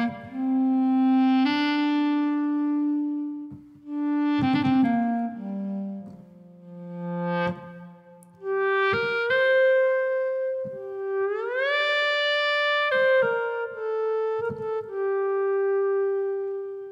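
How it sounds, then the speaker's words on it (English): A synthesized clarinet plays a slow lead melody of sustained notes with pitch bends and gaps between phrases, close and clear, with no voices. "I'm using the clarinet as my melody in this track"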